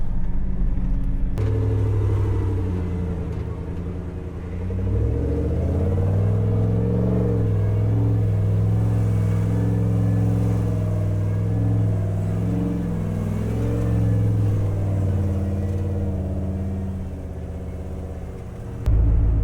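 An off-road vehicle crawls over slick rock fins in Moab, its engine a steady close rumble with occasional revs rising and falling, with no talking.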